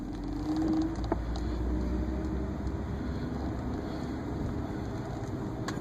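A manual stick-shift car pulls away in first gear as the clutch comes up, making a steady low engine rumble and a brief rising tone near the start, heard from inside the cabin with no talking.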